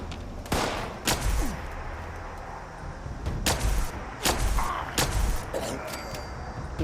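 A slow-firing weapon in the video game Fallout 76 lets off several sharp, booming shots at uneven intervals. The shots sound fairly close, with game ambience and some talk in between.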